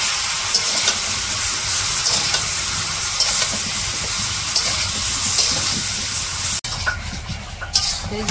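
Prawns fry with spices in a pan for a Bengali curry, a steady loud sizzle and hiss that drops abruptly near the end, then continues more softly.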